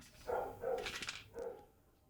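A dog barks several times in a short burst, fairly close but quiet, with a brief pause before a final bark.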